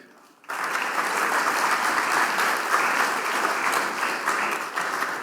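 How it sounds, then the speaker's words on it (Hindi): An audience at a lecture in Varanasi bursts into loud, sustained applause that starts abruptly and continues evenly for about five seconds. "ताली होनी चाहिए इस बात पे।"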